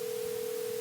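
A telephone dial tone hums as a call is placed, a single steady, unbroken tone that stays at an even loudness with nothing else heard.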